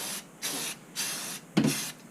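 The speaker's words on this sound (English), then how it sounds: "Just spray it back and forth like this." An aerosol spray paint can hisses in short back-and-forth bursts onto a section of model railroad track, three steady sprays with a slight clatter at the end, close and fairly soft.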